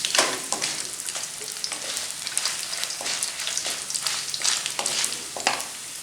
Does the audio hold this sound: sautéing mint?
yes